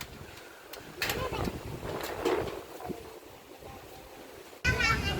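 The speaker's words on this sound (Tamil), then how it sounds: "ம் சரியான காத்து" Strong wind buffets the microphone outdoors at a palm-tree temple in Jaffna, with gusty bursts rising and falling and a sharp loud gust at the end, faint voices in the background.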